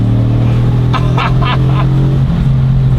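A car accelerates hard on a green light while racing, its loud engine droning steadily and close throughout, with a brief burst of higher noise partway through.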